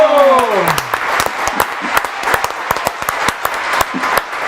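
Studio audience applause for a veteran musician on a live comedic news show, sparse sharp individual claps following a voice at the start, close and uneven rather than a full roar.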